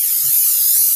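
Cooking spray hissed onto a baking pan, one steady close-up spray lasting about a second, loud and continuous.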